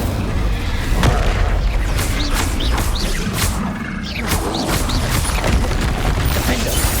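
An Incendio fire spell blast in Hogwarts Legacy erupts among repeated booming impacts and crashing bursts, a loud, continuous stream of explosive hits with sharp transients scattered throughout.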